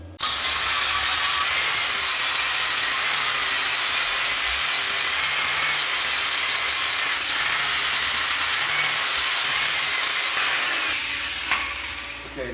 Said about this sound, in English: The idea is it just hump up just a little bit so I could flap disc it.